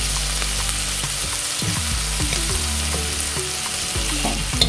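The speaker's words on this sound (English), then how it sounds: "Just going to let that saute a few minutes, and then we'll start adding our broth." Chopped regular onions sauté in a hot pan for a cabbage dinner, giving a loud, steady crackling sizzle throughout with occasional soft stirring movements.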